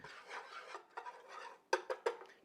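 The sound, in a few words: whisking flour and butter roux into a paste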